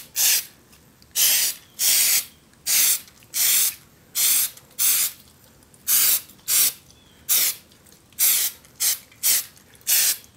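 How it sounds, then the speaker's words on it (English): Spray glue aerosol blasted over grill cloth on a homemade radio build, heard as about fifteen loud, close hissing bursts of roughly half a second each, separated by short pauses. "we go ahead and we blast the whole thing with spray glue"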